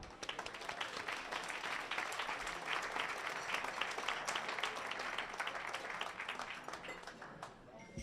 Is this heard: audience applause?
yes